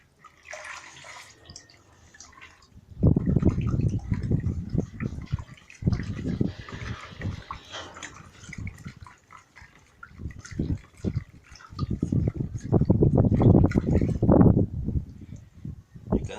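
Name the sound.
stirring emulsion paint mixture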